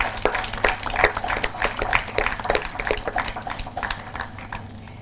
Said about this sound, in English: Anand Sudarshan with a big round of applause.